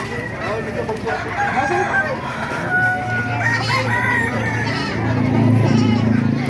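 Roosters crow over and over at a busy chicken market in Baliuag, with clucking fowl and a constant crowd murmur. The calls are loud and overlapping, and faint voices mix into the background.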